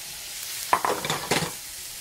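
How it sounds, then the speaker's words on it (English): Mushrooms drop into a hot pan of oil, butter and garlic, setting off a close sizzle with a few quick stirring clatters that fade back to a soft hiss. "All right, mushrooms go in."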